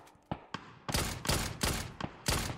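Gunfire from a multiplayer shooter video game rings out in a rapid burst of about eight sharp shots, quiet at first and then louder and closely spaced.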